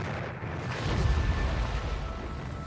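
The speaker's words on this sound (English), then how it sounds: "Now for the explosion." A World War II depth charge explosion rolls out as a deep, sustained underwater boom with a rumbling swell that fills the whole moment.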